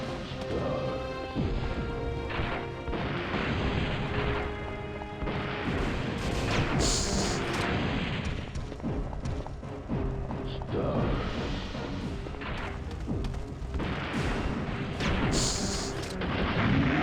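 Missiles from Nemesis in Resident Evil 3 slam down in a sustained barrage of loud, booming blasts and crashing impacts, one after another, with game music and noise filling the gaps.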